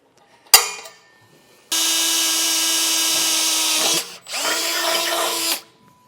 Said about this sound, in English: I think the 1/4 inch is a perfect size for drilling that out.